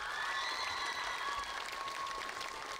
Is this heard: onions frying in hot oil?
no